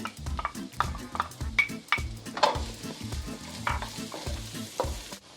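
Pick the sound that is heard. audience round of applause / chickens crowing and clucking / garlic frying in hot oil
garlic frying in hot oil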